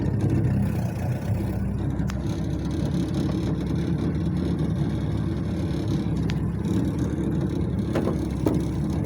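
A warm outboard motor on a jon boat idles steadily and loudly after a push-button start, a continuous low engine drone running throughout with a few faint clicks, no talk.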